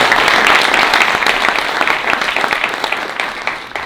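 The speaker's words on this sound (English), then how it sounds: "give a big round of applause to Ali, the Noor, the entire Bot Launch team" Loud audience applause at a Pakistani VC townhall, a dense wash of many hands clapping that holds steady and then slowly tapers off, with no one talking over it.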